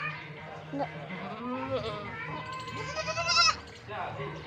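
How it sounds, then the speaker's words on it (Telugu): A goat bleats several times in quick wavering cries close by, rising to a loud strained call near the end, with people talking quietly around it. "మేకను వదిలిపెట్టాక ఏడుతుంది"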